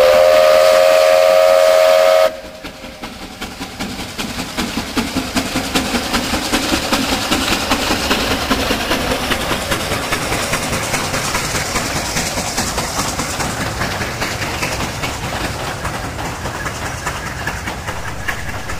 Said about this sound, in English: This coal train was filmed in 2008, and the loco still has a small tender.